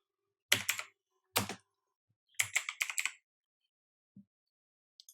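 Computer keyboard keys tapped in a quiet room: three short bursts of quick typing with pauses between them, then a few faint stray clicks.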